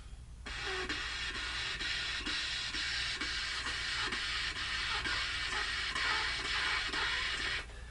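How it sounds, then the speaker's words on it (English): Steady breathy airflow through a reed instrument with no pitched tone, lightly pulsed by soft regular tonguing attacks, continuous and close for several seconds. "I'm going to tongue the notes, and I'm going to be blowing continuously"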